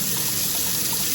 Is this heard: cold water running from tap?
yes